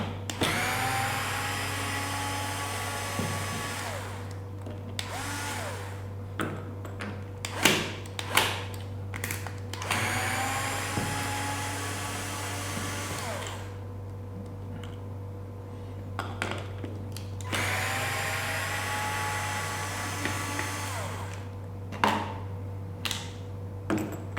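An electric screwdriver or power tool unscrews nuts from a commercial Hurom cold-press juicer, its motor whirring in several bursts of a few seconds each, separated by pauses filled with clinks and handling noise over a steady mains hum.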